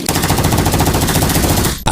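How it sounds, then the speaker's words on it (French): Heavy automatic gunfire from an armed attack on soldiers, a continuous loud rapid burst of shots filling the whole span, ending in a sharp cutoff. "18h20, les premiers tirs sont déclenchés contre nos hommes."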